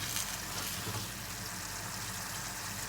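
Soft, steady sizzling hiss of food cooking in a pan, faint and constant throughout with no talking.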